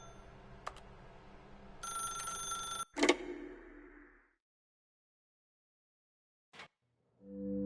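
A telephone ringing in The Stanley Parable video game: a shrill electronic ring with a sharp burst, then cut off into near silence broken by one brief faint blip and a low tone at the end.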